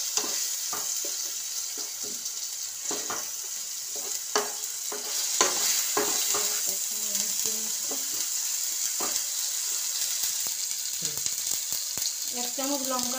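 Tomatoes fry with salt in a pan for a vegetarian paneer masala, giving a steady loud sizzle throughout, broken by scraping stirs and occasional clicks of a spoon against the pan.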